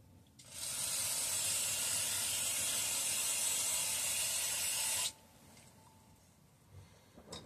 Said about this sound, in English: Spray off the outside a little bit.